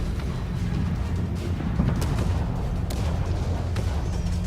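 Naval gunfire in the warship battle game World of Warships, a dense, continuous low rumble of booming cannon shots with sharp bursts standing out now and then, loud throughout.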